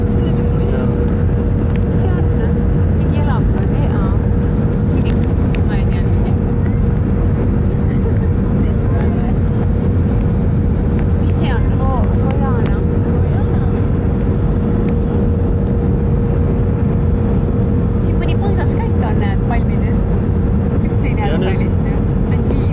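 Airplane cabin during the landing approach into Sharm el Sheikh, a constant loud engine and air rumble with a steady hum throughout, while people talk quietly in the cabin.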